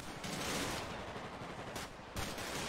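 Gunfire in a video game street shootout: a dense, continuous burst of rapid shots, heard loud with a short break near the end before firing resumes.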